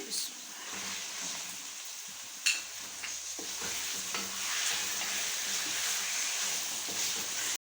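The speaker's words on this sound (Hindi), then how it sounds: "साथ ही हम इसमें टमाटर का पेस्ट शामिल कर देंगे।" Chicken fries with ginger-garlic paste as tomato paste is stirred in for karahi chicken, a dense close sizzle with repeated scraping stirs and an occasional sharp clank of a utensil against the pan.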